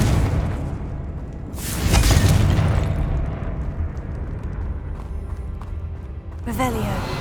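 A Confringo blasting spell in Hogwarts Legacy bursts into a loud explosive boom with a whooshing tail around the two-second mark, followed by lingering rumble and a second sharp burst near the end, over steady game ambience.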